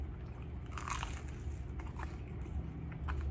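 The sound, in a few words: biting crunchy coal-oven pizza crust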